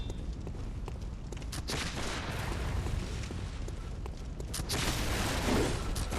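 Gunfire from gunner enemies in Bloodborne, repeated booming shots and blasts over a dense rumbling game din, fairly faint and continuous with a louder burst near the end.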